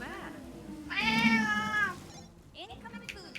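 A cat meows from a cooking-management video game, a drawn-out harmonic cry lasting about a second, clear and close, with brief game sound effects before and after.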